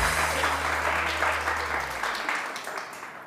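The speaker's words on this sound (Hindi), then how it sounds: "यार फजल के लिए तालियां तो बजाएं" Studio audience of a TV morning show clapping for a guest, a dense burst of applause over a low background hum that cuts out partway, the clapping gradually fading toward the end.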